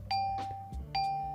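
A Minecraft note block set on a gold block gives a bright bell chime, struck twice with a ring that sustains between strikes, heard alone over a low background hum in the game.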